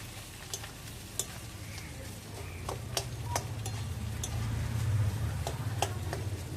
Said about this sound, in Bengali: এরপর দিয়ে দিচ্ছি সিদ্ধ করে রাখা আলুগুলো, একটু ভেঙে ভেঙে দিয়ে দিচ্ছি।